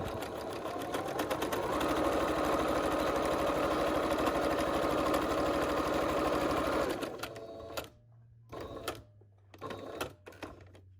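A sewing machine stitches fabric for a homemade filter mask, running in a loud steady whir for about seven seconds, then stopping; a few short bursts and faint handling noises follow.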